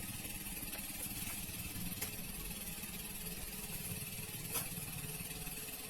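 A water pump engine runs steadily beside a coconut plantation canal, pushing water into the channel: a continuous low mechanical drone with a faint whine, heard at a moderate distance with no talk over it.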